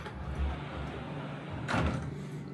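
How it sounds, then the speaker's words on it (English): A sliding bathroom door in a Port Orleans French Quarter resort hotel room glides open once near the end, a short rolling swish that rises over quiet room tone. "it slides open to reveal the toilet and shower."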